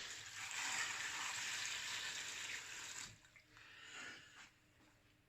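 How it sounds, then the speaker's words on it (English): Water pours steadily from a tap into a saucepan of red cabbage for about three seconds, a soft hissing splash, then stops leaving faint drips and handling sounds. "We're going to put some water in that."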